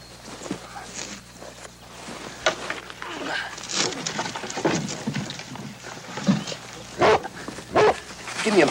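A dog barks in short loud bursts, several sharp barks near the end, among shuffling footsteps and movement in an indoor setting.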